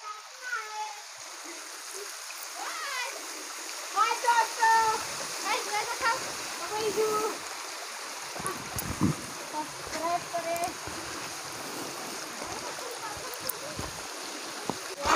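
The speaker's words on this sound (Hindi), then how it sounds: "पत्थर के बीचों बीच से पानी कैसे निकल रहा है" Water flows and splashes out from between rocks on a mountainside where a spring runs year-round, a steady close rushing with children and adults talking over it at intervals.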